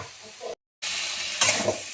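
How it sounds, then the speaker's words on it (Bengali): Boiled potatoes fry and get stirred into cooked spice paste for a cauliflower, potato and poppy seed dish: a close, dense sizzle with stirring scrapes, interrupted by a brief silent cut. "আলু দিয়ে আমি ভালো করে একটু কষে নেবো"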